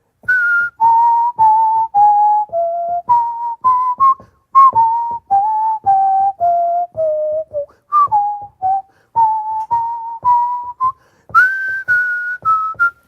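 A bright whistled tune moves stepwise through a walking line of short, evenly paced notes with brief breaks, close up and clear throughout.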